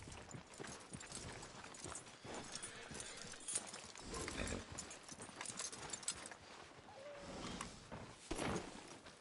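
A horse's hooves clip-clop at a walk, fairly quiet and uneven, with a few thuds and shuffles in an outdoor western cowboy setting and no talk.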